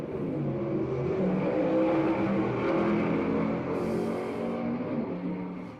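A gasser drag racing car launches at Kil-Kare Dragway in Xenia, Ohio, its engine roaring loudly and steadily as it pulls away down the strip.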